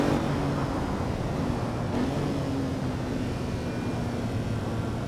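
A naturally aspirated classic supercar engine in the Assetto Corsa EVO racing game, heard as a steady, moderately loud droning hum with a constant pitched tone running underneath, sustained evenly for several seconds without talk.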